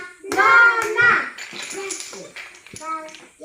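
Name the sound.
children clapping hands to a song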